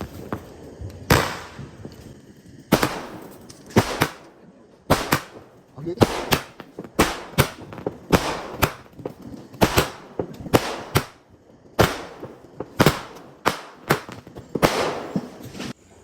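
Firecrackers going off during a Vishu celebration, a long string of sharp loud cracks and pops at irregular intervals, some in rapid bursts, with quiet gaps and faint voices between them.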